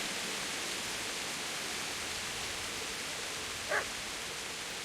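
A dog barks once in the video game Kingdom Come Deliverance, a single short, distant bark nearly buried under a steady rushing background noise.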